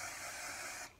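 Root spray hisses from an aerosol can onto a wig in one short continuous burst that cuts off abruptly, close and fairly quiet.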